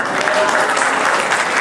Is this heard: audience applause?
yes